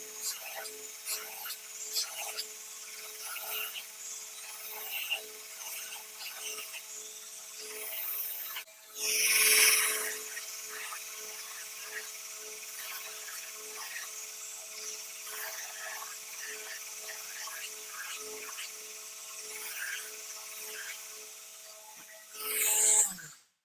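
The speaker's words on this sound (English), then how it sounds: "We're going to grind that edge down" The edge of a leather knife sheath is ground down, giving a continuous rasping, rubbing noise with a few louder grinding surges.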